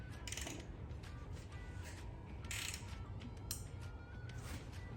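A ratchet wrench working a torque converter bolt loose on a Foxbody Mustang being prepped for an LS swap, giving off quiet metallic clicking and creaking in several brief bursts over a steady low background rumble, with no talking.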